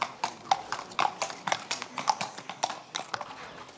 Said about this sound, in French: 120 chevaux participent au spectacle.